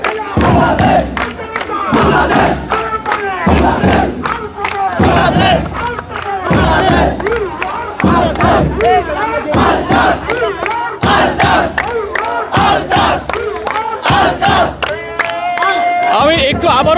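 Football ultras chant slogans together outside the stadium at a Bangladesh versus Singapore match, a loud massed crowd of voices shouting in rhythmic bursts, close and sustained, with scattered claps and thumps.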